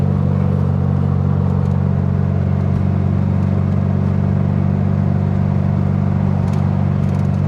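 An air-cooled Volkswagen Beetle engine running without a thermostat, heard from inside the car as it drives: a loud, steady low drone with a constant hum and no talking.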